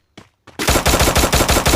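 Automatic gunfire in a squad-versus-squad shooter video game: a couple of faint shots, then a loud, steady rapid-fire burst with evenly spaced cracks, close and unaccompanied by voices.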